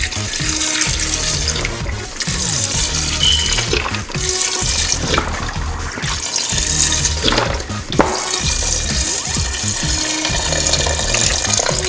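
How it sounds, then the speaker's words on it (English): Swanson chicken broth, a full 32 ounces, pours steadily into a cooking pot for red beans and rice, a continuous close splashing gush with brief breaks, no talking. "Now I'm going to add 32 ounces of chicken broth."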